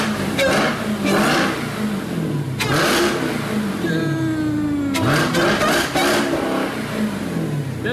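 A Jeep Trackhawk's engine revs hard in repeated bursts, the exhaust roaring up and down in pitch, loud and close, with a few voices faintly underneath.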